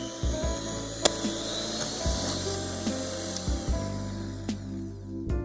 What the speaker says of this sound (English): Add potato starch and matcha powder. Whisk them some more.